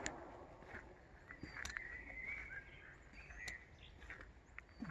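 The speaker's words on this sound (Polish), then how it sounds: "Ptaszki śpiewają na całego" Faint spring birdsong with scattered chirps and a thin warbling call, heard far off against a soft outdoor background with light rustling among blossoming trees.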